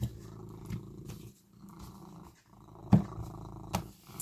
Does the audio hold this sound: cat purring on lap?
yes